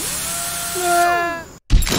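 Drill effect from the Henry Stickmin video game: a rising electronic whine with gliding tones for about a second and a half, then a sudden cutoff followed by a loud, noisy burst.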